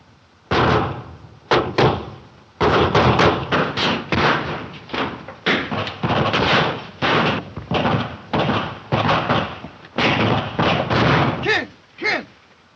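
Gunfire from a gang shooting up a bank in a classic Western film, a long barrage of loud, closely spaced sharp shots and bangs with scattered shouting underneath.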